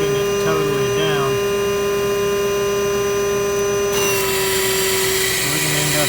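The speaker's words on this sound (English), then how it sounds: "You can hear by the sound of the vacuum it's choking it totally down." A vacuum choking on a clogged exhaust, a loud steady motor drone with a strained tonal whine that shifts partway through, with people talking over it.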